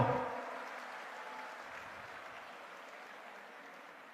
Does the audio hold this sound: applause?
yes